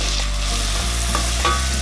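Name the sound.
frying vermicelli in a pan for sheer khurma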